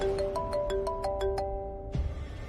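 A phone ringtone plays a rapid run of tinkling chime notes over a sustained tone, then cuts off abruptly as a faint rustle follows.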